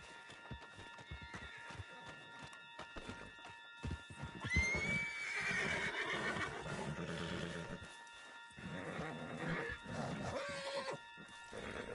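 A horse neighs loudly in Red Dead Redemption 2, with hooves clopping and background game sounds around it; no voices.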